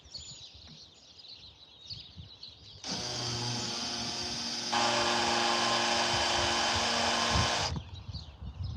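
A power drill whines steadily for about five seconds, growing louder partway through, as it bores out a screw hole in wood during a van roof deck build, with quieter background noise on either side.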